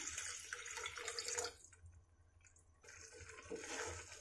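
Water splashes and pours into a pan of bathua greens curry over a high flame, in two bursts with a short pause between, close and fairly loud.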